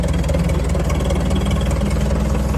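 A heavy diesel tractor engine idles steadily and close by, a deep, even rumble with no pauses or changes in pace.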